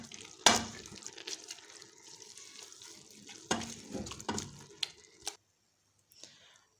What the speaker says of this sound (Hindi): इसको मसलसल ऐसे 10 से 15 मिनट तक मसलसल इसको हिलाते रहेंगे ताकि हमारा साग अच्छे से मिक्स हो जाए।